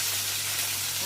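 Mustard seeds, cumin and curry leaves hit hot oil in a pan, giving a short, steady, bright hiss of sizzling with a faint low hum underneath.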